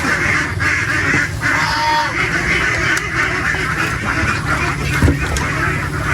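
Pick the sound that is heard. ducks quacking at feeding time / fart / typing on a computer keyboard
ducks quacking at feeding time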